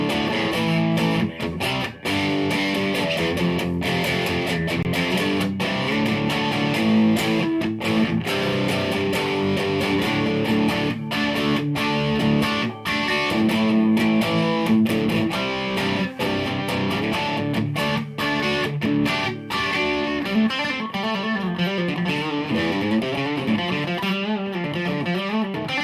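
Squier Classic Vibe Jaguar electric guitar played with heavy distortion, a dense, loud and continuous stream of saturated chords and riffs that runs without pause for the whole stretch.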